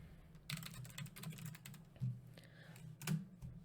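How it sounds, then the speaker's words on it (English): Typing on a computer keyboard to enter a search term, quick close clicks in short irregular bursts with a few louder keystrokes, alone and fairly faint. "And we can just type in the word bucket list."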